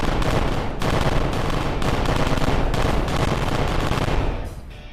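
Sidewinder missiles firing and exploding in Kerbal Space Program make a loud, dense roar of blasts and rumbling bursts that carries on without a break, then fades out at the end.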